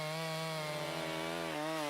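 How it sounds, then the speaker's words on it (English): An 18-inch gasoline-powered two-stroke chainsaw runs close up at a high, steady buzzing whine that dips briefly in pitch just before the end, heard on its own. "A gasoline-powered two-stroke engine drives a chain outfitted with sharp metal teeth."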